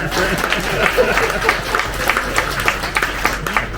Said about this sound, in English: Give all 3 of them another big round of applause.